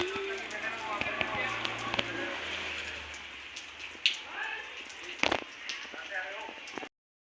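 Rain falls steadily around a home, a soft continuous patter with scattered sharp drips and knocks, one louder thud standing out midway before the sound cuts off.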